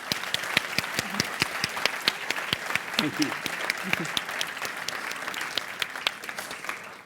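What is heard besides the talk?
audience applause at festival talk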